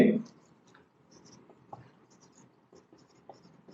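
Chemistry structures written on a board during an organic chemistry lesson: faint, sparse taps and scratches of writing, close by, with a voice briefly at the very start.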